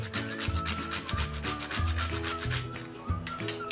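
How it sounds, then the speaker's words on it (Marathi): Nutmeg is grated into a sweet wheat-flour laddu mixture, giving a quick rhythmic rasping rub repeated in short strokes, close and fairly loud, with no talking. "ह्यामध्ये आता ते थोडं जायफळ किसून घ्यायचं आहे"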